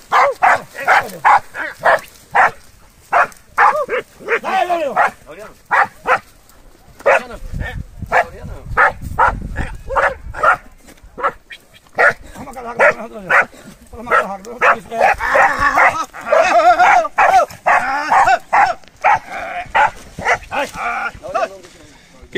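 A dog barks repeatedly during a cattle roundup in scrubland, sharp rhythmic barks and yips close by for over twenty seconds, with someone shouting and talking between them.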